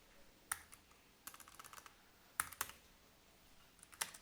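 Scattered computer keyboard keystrokes: a lone click, a quick run of taps, then a few more sharp isolated presses, close and fairly quiet against a faint background hiss.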